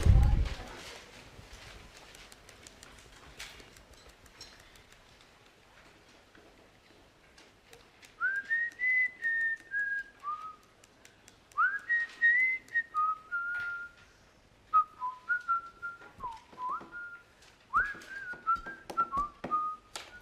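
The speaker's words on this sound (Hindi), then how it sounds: "सीटी आती है ना बजाना है?" In a CA Inter lecture class in Borivali, people whistle a tune in repeated short melodic phrases. It starts after a quiet stretch and carries on through the second half, clear and fairly close, with light knocks and room noise between phrases.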